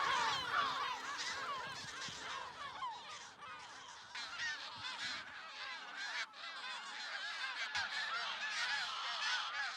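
A breeding colony of Audouin's gulls on Menorca gives off a dense, continuous chorus of overlapping harsh, honking calls, fairly close and lively, with no other sounds.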